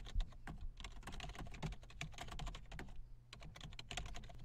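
Steady, rapid clatter of a computer keyboard as a short book review is typed, keystrokes close and continuous with a brief pause midway before the tapping resumes.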